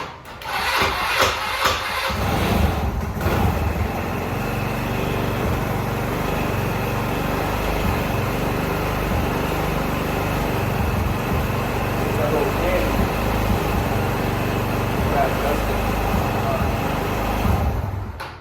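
The GY6 scooter engine of a Vitacci Rocket, fitted with a performance CDI, runs on a test run as a steady, close, rough mechanical drone. Voices talk over it throughout.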